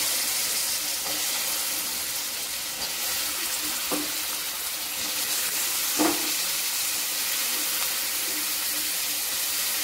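Chopped ash gourd hits hot tempering oil in a pan, producing a continuous close sizzle and hiss with a couple of soft knocks from stirring.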